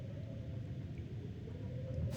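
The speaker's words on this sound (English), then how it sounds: "Sounds like a pretty good storm out there." Storm wind in the survival video game The Long Dark, a steady low rumbling roar that holds evenly throughout at moderate level, heard alone.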